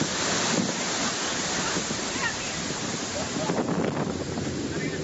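Cyclone Yasi winds roar steadily across the microphone, a dense, rushing howl with gusty surges throughout and no letup.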